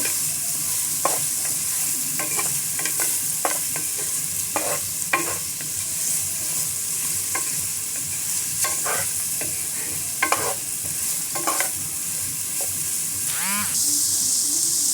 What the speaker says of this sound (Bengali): কিছুটা ভাজা ভাজা করব।